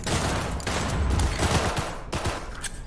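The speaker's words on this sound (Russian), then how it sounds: "по-моему там с пулеметами стреляет" Rapid machine gun fire crackles in a Cyberpunk 2077 shooting contest, dense sustained bursts at moderate loudness with brief pauses between volleys, no voices over it.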